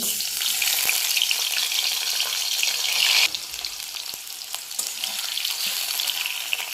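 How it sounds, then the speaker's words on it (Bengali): Potatoes fry in hot oil in a kadai wok with a loud, continuous close-up sizzle that softens a little partway through. "কড়াইতে আলুগুলো দিয়ে দিচ্ছি"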